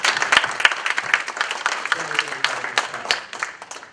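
Audience applause at a hackathon event, a steady round of many hands clapping close by, with a few louder claps standing out and a voice faintly underneath.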